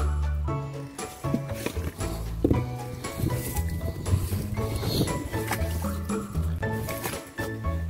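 Snowmelt trickles and gurgles through a small channel dug in the ground after a snowstorm in Greece, wet squishy sloshing close by with scattered drips and splashes under music.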